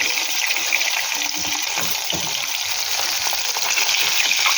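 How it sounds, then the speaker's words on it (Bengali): Pieces of vaghor fish fry in hot oil in a pan, a continuous dense sizzle with crackling spatters, close and steady throughout. "আমি মাছটা ভেজে নিই বন্ধুরা, তারপরে মাছগুলো দেবো, ভেজে ফিরছি।"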